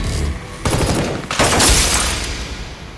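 Gunfire in the anime Heavy Object as a character shoots at a bomb's cable, two sharp bursts of shots close together and loud, followed by a fading tail.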